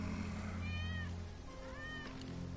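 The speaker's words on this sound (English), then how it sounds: "That's Wedge's cat." A cat in the video game Final Fantasy VII Remake meows twice, each cry short and rising, heard faintly over a steady low game background hum.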